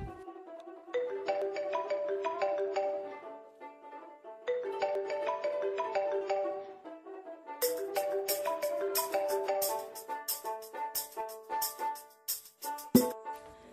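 Repeating ringtone melody plays in several phrases, with brief pauses between them, clear and close, ending with a sharp click.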